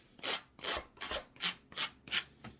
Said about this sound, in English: just using the sandpaper or the sanding block